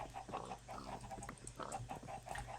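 Minecraft pigs in pig pens give off repeated short oinks and grunts, several overlapping in an uneven rhythm, close and at moderate volume throughout.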